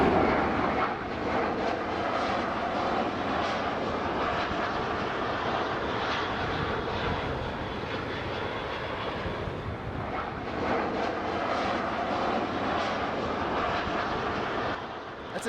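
An airplane taking off near a timed billboard in Piccadilly, London, a steady loud broadband engine roar that holds for the whole stretch with a slight dip midway, no voices.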